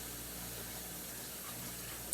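Water runs from a kitchen faucet in a steady, faint, continuous stream, with no talking.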